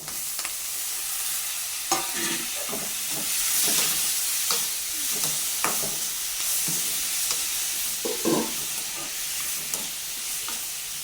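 Tomatoes sauté in a pan for okra kuzhambu, giving a soft continuous sizzle broken by repeated scraping stirs of a spoon against the pan.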